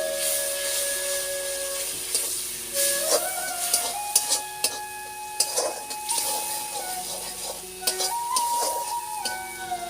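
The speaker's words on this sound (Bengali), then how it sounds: "জল দেবো, মশলাটা যেন না পুড়ে যায়," Water poured into a spice paste frying in hot oil, giving steady hissing and sputtering steam with sharp pops and crackles, close and loud, plus a thin whistling tone.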